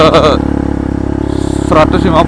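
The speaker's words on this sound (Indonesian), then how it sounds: "Ini dengan motor 150" A 150 cc Honda CRF150L motorcycle ridden solo on a rough, risky trail, its engine droning loudly and steadily throughout while someone talks over it.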